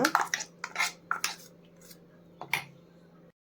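Metal spoon scrapes and taps against a bowl in short bursts while transferring ground borage-leaf chutney, close up and fairly quiet, with a brief pause between clusters.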